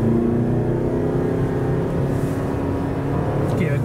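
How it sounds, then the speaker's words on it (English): A Toyota RAV4 accelerates toward 60 km/h, heard from inside as a steady, loud engine and road drone with a rising hum throughout. "I'm going to accelerate to around 60 kilometers per hour"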